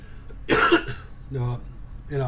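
A person coughs once sharply, followed by a couple of softer throat-clearing coughs, close to the microphone.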